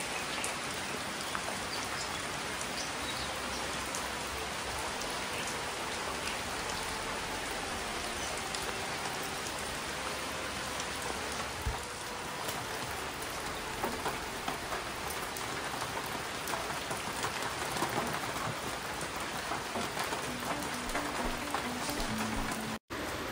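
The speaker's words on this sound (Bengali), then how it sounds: "সেই দুদিন থেকে এক নাগাড়ে বৃষ্টি পড়ছে।" Heavy monsoon rain pours steadily outside a home, a dense continuous hiss of drops on surfaces lasting throughout with no pauses, alone without voices.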